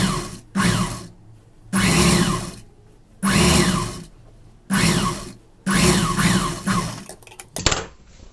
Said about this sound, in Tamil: நான் வந்து இப்போ தையலே போட்டுக்கிறேன்.